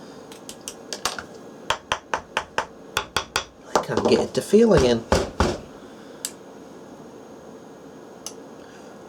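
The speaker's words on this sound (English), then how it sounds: "you can hear the relays clicking as I increase the or decrease the voltage asked of the power supply" Relays inside an APS 3005 bench power supply click in a quick series of sharp, close ticks as the voltage is adjusted, followed by a short burst of louder clatter and a few sparse clicks, with someone speaking briefly.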